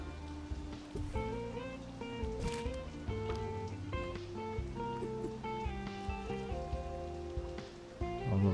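Rain falls in the management game Two Point Campus on Nintendo Switch as a soft, steady patter. It sits under louder, melodic background game music throughout.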